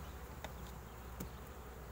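Honey bees buzz around an opened hive during a September inspection, a faint, steady insect hum with a few closer passing buzzes, no voices.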